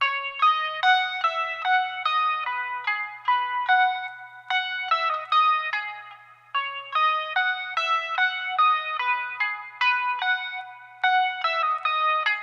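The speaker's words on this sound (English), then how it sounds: "So yeah, by itself, the guitar sounds like this." A clean electric guitar plays a bright, flowing melody of picked notes, shimmering with chorus and a touch of reverb, alone and fairly close.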